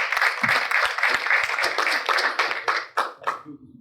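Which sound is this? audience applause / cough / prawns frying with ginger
audience applause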